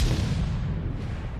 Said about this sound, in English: Okay, explosions.